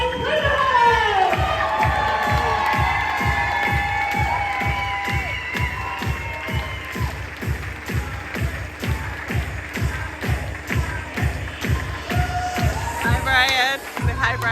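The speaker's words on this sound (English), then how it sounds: "Give a big round of applause." A crowd at an event in Sandy, Utah, applauds and cheers, with whoops and shouts over rhythmic clapping that keeps up and swells toward the end.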